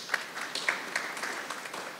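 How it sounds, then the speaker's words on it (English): Another round of audience applause at a Women's History Month staff mentorship event: sparse, quiet clapping from a small crowd with a few sharper individual claps, fading slightly toward the end. "Another round of applause."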